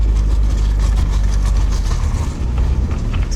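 A car used for fishing trips idles with a steady, loud low rumble heard close up, unchanging throughout.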